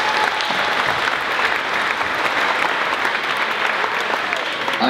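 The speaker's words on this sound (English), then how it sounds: "keep that applause going and welcome them out onto the stage" Sustained applause from an audience at a school dance performance by City of Norwich School, a dense steady wash of many hands clapping throughout, loud and continuous.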